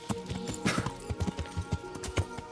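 Rhythmic clip-clop of horse hooves at a steady trot in the video game Kingdom Come: Deliverance, fairly close, with a faint whinny-like tone and some background game music.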